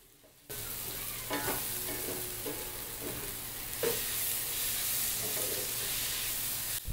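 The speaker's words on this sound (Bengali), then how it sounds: "এবারে নুন, হলুদ, কাশ্মীরি লঙ্কার গুঁড়ো দিয়ে ভালো করে ভাজবো।" Onions with ginger-garlic paste, salt, turmeric and Kashmiri chilli powder stir-fry for a mutton kosha, a steady close sizzle with a few scraping stirs of the spatula, no voices.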